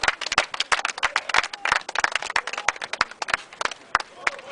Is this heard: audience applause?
yes